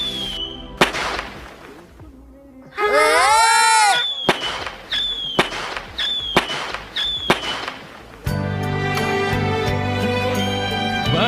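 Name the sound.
firecrackers and fireworks in cartoon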